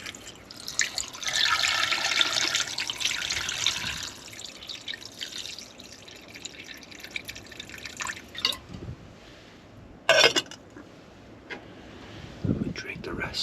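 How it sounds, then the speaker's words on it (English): Water poured into a stew pot at an outdoor survival camp on Santa Rosa Island, a steady splashing pour over the first few seconds, then scattered drips and small splashes with talk between. "We're gonna add water."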